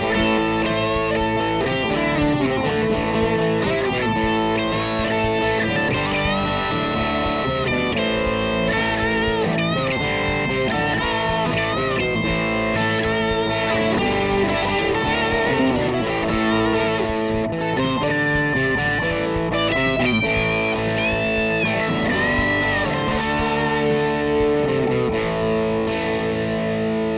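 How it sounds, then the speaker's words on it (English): An electric guitar played through a Wampler Plexi Drive Deluxe distortion pedal rings out loud and continuous with thick, saturated crunch, sustained chords and riffs filling the whole stretch with no talk. "And that was the ball-busting Wampler Pedals Plexi Drive Deluxe."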